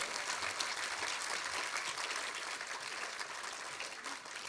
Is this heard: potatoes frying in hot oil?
no